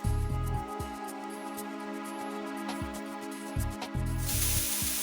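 Coolant sprays in short hissing bursts during bomb disposal in Metal Gear Solid 2, layered over humming, beeping game tones, with a louder continuous spray at the end.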